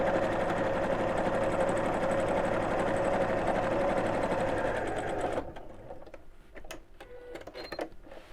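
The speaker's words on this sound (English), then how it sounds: "top stitch quite close to the edge all the way around" A sewing machine topstitches close to the edge all the way around a fabric storage box at a slightly lengthened stitch. A steady, close mechanical whir runs for about five seconds, then stops, leaving quiet handling noises.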